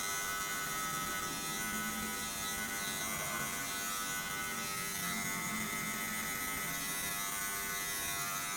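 Electric hair clipper fitted with a 0.5 guard blending a haircut, a steady close buzzing drone that runs without a break for the whole stretch, with no talking over it.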